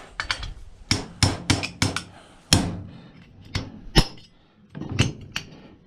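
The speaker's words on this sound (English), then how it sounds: "and I'll get the little hammer here." A small hammer strikes a punch to knock a stuck piece out of an aluminum motor end, giving loud, sharp metallic blows in irregular clusters of two to four, each ringing briefly before the next.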